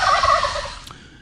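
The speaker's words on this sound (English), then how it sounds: "wild turkeys" A wild turkey gobbles once, a loud, close, rapid rattling call that trails off over about a second, heard alone with no talk.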